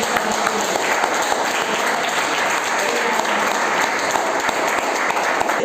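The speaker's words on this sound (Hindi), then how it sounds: "एक जोरदार ताली होना चाहिए।" A hall audience at a motivation and award distribution program in Maharashtra gives a strong, sustained round of applause for a teacher, thick, even clapping that stays loud and unbroken throughout.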